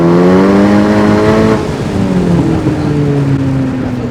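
A 2023-or-newer Honda Civic Type R with an AWE exhaust and downpipe, muffler still fitted, revs hard close by: a loud, throaty rising then falling engine note that dips partway and surges again, with no talk.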